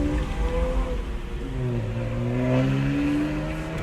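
A BMW 335 with a twin-turbo M54 inline six accelerates hard, its engine note climbing steadily in pitch as the revs build, loud and close with no talking.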